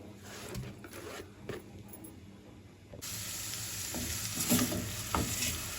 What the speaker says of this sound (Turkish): Soğanların kavrulmaya devam ediyor.